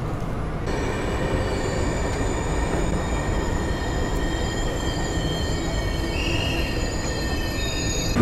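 A passenger train from Poznań to Warsaw rolls past steadily and loud, with a continuous rumble and high metallic wheel squeals ringing throughout.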